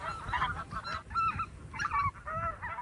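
A flock of wintering migratory geese honks repeatedly, overlapping nasal calls coming in bursts against a low rumbling outdoor background.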